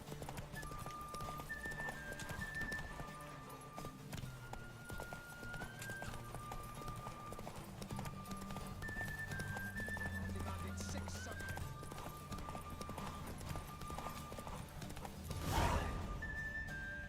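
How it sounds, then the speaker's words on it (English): A horse in The Witcher video game gallops with steady, close clip-clopping hoofbeats, then gives a neigh near the end, over quiet game music. "I'm now fighting with the horse."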